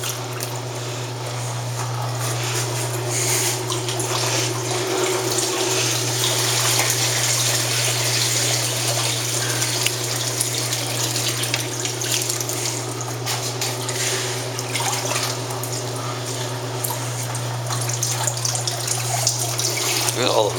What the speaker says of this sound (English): Look at all the water coming out of those.